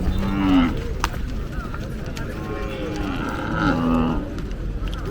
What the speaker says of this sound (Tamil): பாருங்க இப்போ வந்த மாடு